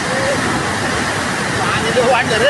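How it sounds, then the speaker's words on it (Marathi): Flood water rushing over an overflowing bridge at Moshi–Chimbali near Pune during the monsoon, a loud, steady broadband roar of torrent throughout, with voices faintly mixed in near the end. "हा पाणी वाढले बघा पाणी भरपूर वाढले"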